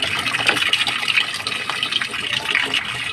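Water gushes steadily through the inlet valve into a Panasonic automatic washing machine, a continuous close hiss and splash with low supply pressure, heard alone without talk.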